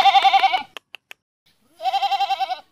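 A goat bleats twice, close and loud, each call a wavering, pulsing cry, with a few short clicks in the pause between.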